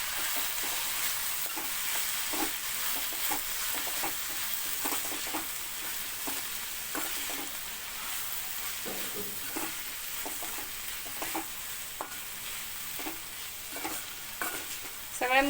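Cluster beans (gavar) being stirred in a pan with garam masala and salt, a low steady sizzle marked by frequent rhythmic scrapes and taps of a spatula.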